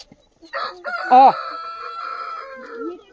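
A rooster crows once, loud and close, its drawn-out call rising and falling over a second or so, with faint background noise around it.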